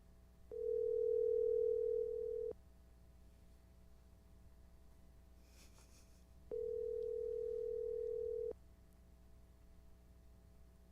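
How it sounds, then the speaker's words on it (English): A telephone line gives two steady electronic tones of about two seconds each, spaced several seconds apart over a quiet, faintly hissing background. "The phone's ringing."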